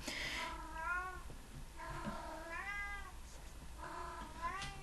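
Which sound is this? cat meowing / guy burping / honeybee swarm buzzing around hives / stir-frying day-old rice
cat meowing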